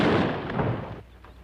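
Rifle gunshots in a western showdown, a dense loud burst of blast energy that decays through the first second into a fainter tail with a small late pop.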